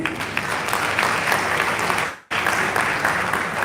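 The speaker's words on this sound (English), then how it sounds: "Please, can we just clap for him?" An audience clapping at a conference session in Ibadan, Oyo State: dense, steady applause filling the room, briefly cut off by a short gap before resuming at full strength.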